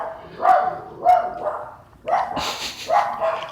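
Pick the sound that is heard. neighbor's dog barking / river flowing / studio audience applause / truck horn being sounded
neighbor's dog barking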